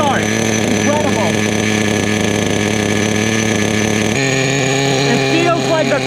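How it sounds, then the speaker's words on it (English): A nitro RC car's TORQ 21 Vintage Big Block engine idles loudly with a buzzing, steady drone and a brief shift in pitch partway through, while a person talks over it. "What matters now is just maintaining a good idle, getting a tune going, and making sure the motor doesn't shut down all the time."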